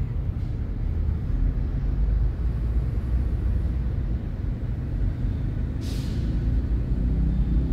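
Steady, loud road rumble of a truck hauling pigs on the South Luzon Expressway, with a constant low engine and tyre drone and a brief hiss of air near the end, no voices.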